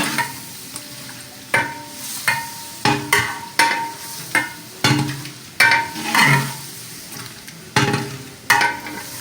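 Aloo tehri with potatoes stirred in a pot, about a dozen rhythmic scraping strokes of a ladle against the metal over a continuous sizzle, loud and close, with no talk.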